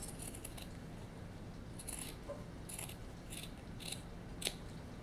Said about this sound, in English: I'm going to fold it up. And I'm going to make a nice long slit.